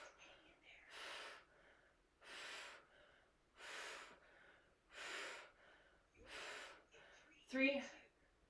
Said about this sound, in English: Intentional breathing.